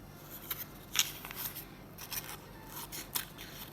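Scissors snip through paper during a cupcake-liner fish scale craft, a few short crisp cuts spaced apart, close and fairly quiet with no talking.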